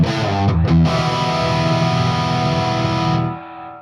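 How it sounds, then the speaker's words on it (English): Electric guitar through a Marshall preamp set around 6, with master at 4, treble at 4 and middle at 5 to 6, run with reverb and delay. A strummed chord starts the passage, sustains loudly, then fades into a reverb tail. "So that's with the Marshall preamp around 6, master at 4, treble at about 4, middle 5 to 6"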